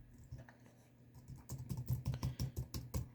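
Keys tapped on a computer keyboard, the arrow keys, while installing Android on a PC: a few sparse clicks at first, then a quick, even run of close, crisp presses.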